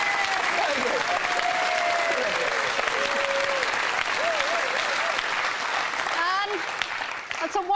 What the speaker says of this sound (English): Round of applause for the Young Magician of the Year, Sir Darbeck.